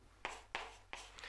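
Pen or marker strokes on a board or tablet during a Korean high school math lesson on function graphs, three short scratchy bursts close by with brief pauses between them and no talking.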